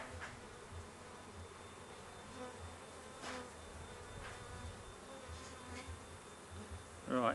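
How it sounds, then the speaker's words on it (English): Bees buzz around hive frames being cinched together during a December hive check, a soft continuous hum nearby with occasional louder passes as individual bees fly close, and a brief knock near the end. "these stupid bees aren't getting out of the way of the frames as I cinch them up."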